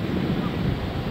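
Ocean surf and wind at the shore of Oak Island, a steady broadband wash with low rumble and continuous wind buffeting, fairly loud and close, with no talk.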